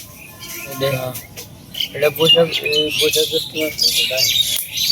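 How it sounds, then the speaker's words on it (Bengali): A bird chirps in short, high calls beneath a person talking nearby, outdoors with light background noise. "এই যে পাখিটার ডাক শোনা যাইতেছে না?"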